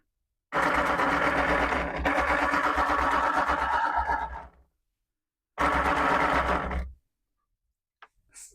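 The small electric drive motor of a built Chopper model kit whirs in two bursts, a steady buzzing hum running about four seconds, stopping, then running again briefly before a few faint clicks.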